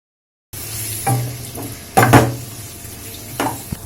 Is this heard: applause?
no